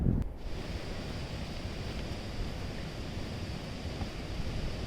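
A waterfall on a forest trail near Koshla village outside Manali, where the stream becomes the Kunool Nala, gives off a steady, close rushing roar that continues without a break and without voices.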